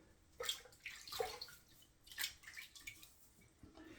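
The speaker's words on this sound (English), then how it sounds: "let me splash some water on" Several soft water splashes and drips in a shaving bowl at a quiet level, in separate bursts spread over a few seconds, with no voices.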